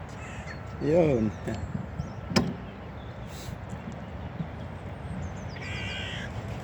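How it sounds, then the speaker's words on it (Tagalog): Several crows caw as they arrive to be fed, a couple of harsh calls near the start and more further off later, over a low outdoor background with a brief thump. "Ayan ang mga ibon ko."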